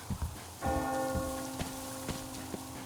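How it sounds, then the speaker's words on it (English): A church bell tolls in the video game Metro Exodus in a ruined, occupied wasteland, a single resonant strike ringing out with a long sustained hum, preceded by a few soft thuds and faint rain-like patter. "Do you hear that bell?"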